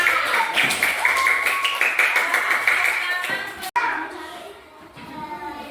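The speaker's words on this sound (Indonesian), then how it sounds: "kita beri tepuk tangan untuk kelompok kita" Pupils in a classroom clap for a student group, a lively run of close handclaps with children's voices, stopping abruptly and giving way to quieter chatter.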